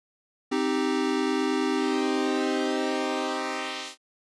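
A single sustained buzzy pulse-wave note from a Cherry Audio Chroma analog-style synth, its pulse width sweeping to shift the timbre, starting abruptly and fading out after about three and a half seconds.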